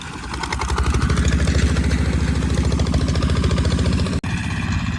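A walk-behind tractor engine runs loud and close in a field with a rapid, steady chugging beat, cutting out for an instant near the end before resuming.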